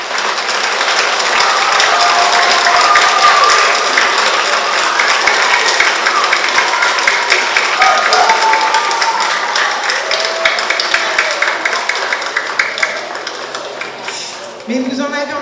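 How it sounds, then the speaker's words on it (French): Sustained audience applause fills a hall after a school show, loud and dense with crisp hand claps throughout, tapering slightly near the end as a voice begins to speak over it. "vous pouvez encore vous applaudir"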